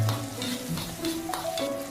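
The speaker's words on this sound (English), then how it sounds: "Next, add the prepared aromatics and stir fry until fragrant." Aromatics stir-fried in a hot wok with dry pot sauce for cauliflower: loud, steady sizzling with quick scraping and tossing strokes of the spatula, close up and without talk.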